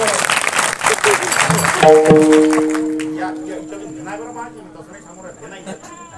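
An audience at a village kirtan during a Bhagwat katha gathering claps loudly for about two seconds. The applause then gives way to sustained harmonium-like tones that fade out.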